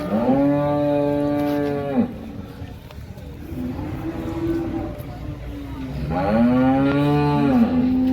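Holstein Friesian cows at the Baramati agricultural produce market cattle bazaar give two long, loud, close moos, one at the start and one near the end. Crowd murmur and a steady low hum fill the gap between them.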